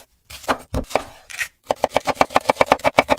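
A knife chops onions on a board: a few irregular cuts, then a fast, steady run of crisp, close, evenly spaced strokes.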